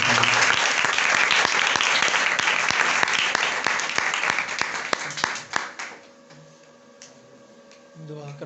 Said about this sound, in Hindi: आज जोरदार तालियां खुदा के कलाम के लिए